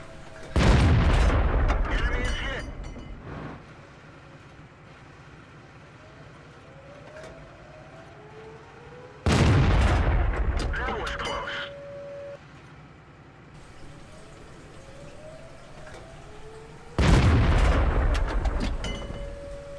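Three heavy tank cannon shots in a video game, each a loud booming blast with a long rumbling tail, spaced several seconds apart with quieter battlefield noise between.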